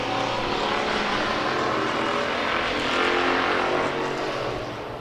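Race cars at speed on the Tomah track during a Hobbyfest heat, a dense, loud wash of engine roar from several cars bunched together, swelling slightly before easing off.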